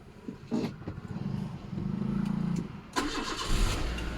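A Nissan Sunny Neo car engine cranks briefly, then catches on the first try and settles into a steady, close idle after a short revving surge.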